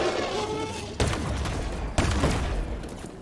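Heavy gunfire in the video game Halo Infinite, a constant roar of rapid shots with two sharp louder blasts about a second apart.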